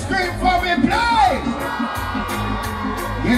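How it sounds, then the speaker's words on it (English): A concert crowd at a reggae show screams, whoops and cheers loudly in a dense, swelling roar, with a sung or shouted voice rising over the noise. "All the nice and beautiful ladies scream for me,"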